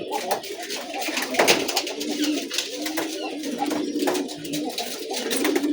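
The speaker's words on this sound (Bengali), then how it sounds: "ওরা সকালে একটু বেশি ডাকাডাকি করে যখন কবুতরের খোপগুলো ছাড়া হয় তখন" Morning pigeons coo repeatedly just after their coops are opened, with overlapping soft throaty calls from several birds nearby and a faint hum of surroundings beneath.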